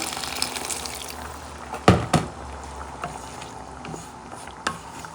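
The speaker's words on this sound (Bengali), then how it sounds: "একটু পরিমাণ মতো একটু পানি দিয়ে দিব" Water is poured into a cooking pot over a spiced base that has been fried until the oil separates, with hilsa fish to follow. Two short splashy bursts land close together, then a fainter one, over a steady low kitchen hiss.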